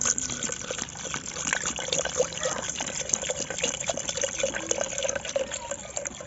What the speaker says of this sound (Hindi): अब डालते हैं इसमें पानी।